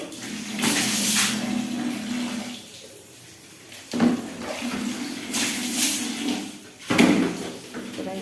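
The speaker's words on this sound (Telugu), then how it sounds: "టైల్స్ మీద కూడా వాటర్ వేసి చూపిస్తాను" Water splashes and gushes onto a hard bathroom tile floor in several bursts, with quieter pauses between pours, recorded close by.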